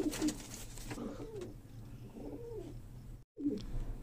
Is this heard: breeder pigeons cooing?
yes